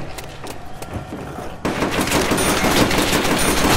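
Trench gun firing in Call of Duty World at War zombies mode, rapid repeated shotgun blasts that grow denser and louder after a short quieter stretch.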